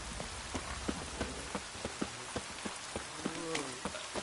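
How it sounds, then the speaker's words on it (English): Heavy downpour in The Witcher 3, a steady wash of rain on surfaces with regular soft thuds like hoofbeats or footsteps running through it, fairly quiet and without speech. "Proper downpour this is."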